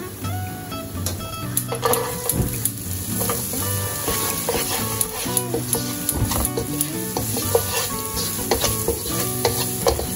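Chopped onion frying in oil for a samosa filling, with steady sizzling and frequent sharp scrapes and clinks of a spoon against the pan throughout, close and fairly loud, with no talk.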